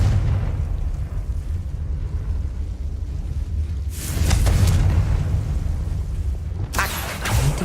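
Confringo fire spells explode in Hogwarts Legacy, a deep, rumbling blast with crackling bursts, then a second sharp burst a few seconds later, over a steady low background rumble.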